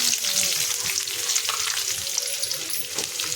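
Chopped onions fry in hot oil in a pan for poha, a loud, close, continuous sizzle with faint crackles and stirring scrapes and no voices.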